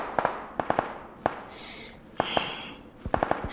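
Distant gunshots in the battle game PUBG on a foggy map: sharp cracks in quick bursts of two to four, separated by short gaps, fairly loud and crisp against a quiet background.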